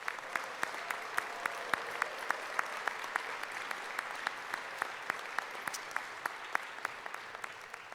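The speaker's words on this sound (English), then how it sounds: "one more round of applause for all of our Year 2 dynamic event winners" A round of applause at an awards ceremony for an autonomous vehicle student challenge, steady clapping from a moderate crowd with individual sharp claps standing out, continuous throughout and somewhat distant.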